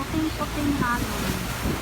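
White sea waves break on the shore at Pandan, Bohol, a constant wash of surf and wind noise, with people talking over it.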